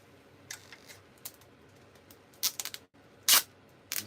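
Packing tape being pulled off a roll while a shipment is boxed up: a few short, sharp ripping and crackling bursts at close range, the loudest near the end, with quiet gaps between them.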